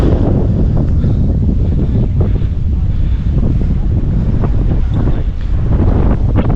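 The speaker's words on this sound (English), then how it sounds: "Sorry about the wind, guys." Strong wind buffets the microphone on a mountain sky bridge in Langkawi, a constant loud roar with gusty rumbling throughout, drowning out everything else.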